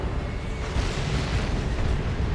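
Frenzied Barrage explosions in Dawn of War 2 battle, a dense continuous rumble of overlapping blasts and crackling detonations, loud and close with no clear gaps and no talking.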